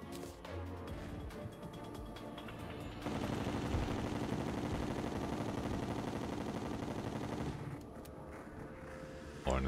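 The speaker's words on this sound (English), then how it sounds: "Can shoot bullets." A Terraria gun fires a rapid, sustained stream of bullets for several seconds, loud and continuous, with someone talking at times.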